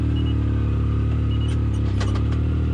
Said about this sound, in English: this machine can definitely climb hills, no problem at all